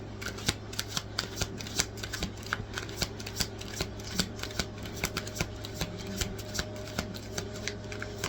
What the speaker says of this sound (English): I'm gonna pull a couple clarifying cards.